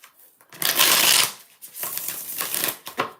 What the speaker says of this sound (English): Every day I'm shuffling.